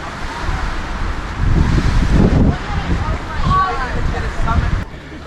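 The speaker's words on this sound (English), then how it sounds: "Windy, very windy." Strong wind on Old Rag Mountain in Virginia buffets the microphone in heavy gusts, giving a loud, rough low rumble that rises and falls, with voices talking briefly.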